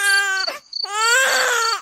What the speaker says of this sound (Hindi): तभी उसके कानों में किसी छोटे बच्चे के रोने की